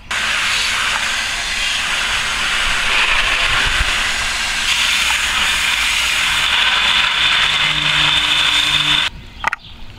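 A paint brush spun on a brush spinner over a 5-gallon bucket, giving a steady loud whirring hiss that holds for about nine seconds and then stops abruptly with a couple of short knocks.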